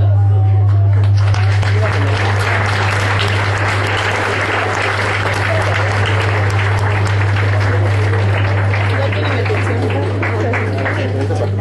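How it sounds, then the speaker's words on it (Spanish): Applause from an audience at a Spanish-language law faculty lecture on cybercrime and criminal law, many hands clapping in a continuous dense wash over a strong low electrical hum, sustained and fairly loud. "Para que un fuerte aplauso"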